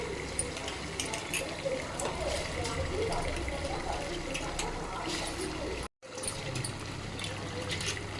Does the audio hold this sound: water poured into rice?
yes